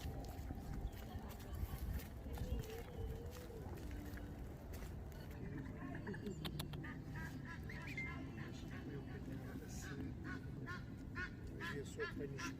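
Swans on a large public park pond, with repeated honking and calling among waterfowl over a steady outdoor background, with voices talking.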